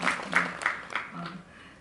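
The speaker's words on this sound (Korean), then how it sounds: "박수 한번 드릴까요?" Audience members applaud at a film screening Q&A at the Jeonju International Film Festival, a short burst of scattered claps that quickly fades out.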